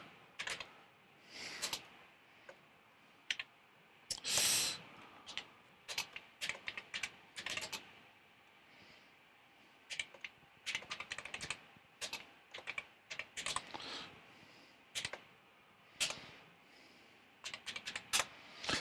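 Keys clatter on a Yamaha CX5M computer keyboard in short, irregular bursts of close, crisp clicks, with pauses between typed words in an otherwise quiet room.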